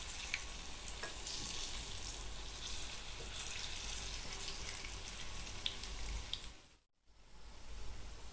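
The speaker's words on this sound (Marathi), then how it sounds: "हे वडे असे थोडे थोडे आपण इकडे पलटी मारून घेणार आहोत" Vadas for a Banari rassa vade bhaji frying in hot oil over a lowered gas flame, a steady close sizzle with occasional scrapes as pieces are flipped, dropping out briefly near the end before resuming.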